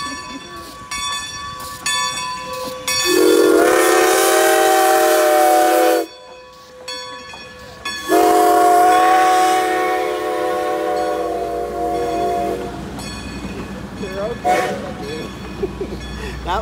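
A passing train sounds two long, loud horn blasts, with a brief gap between them, over a rumbling roar of railcars close by. People talk near the tracks.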